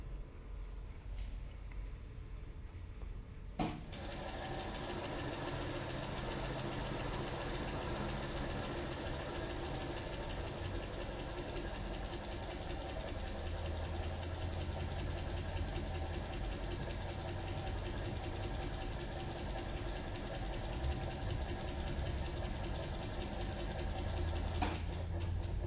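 An electric motor runs steadily on a vibrating motor stand, starting with a click after a few seconds of quiet and then holding an even, continuous hum with faint rattling for the rest of the clip.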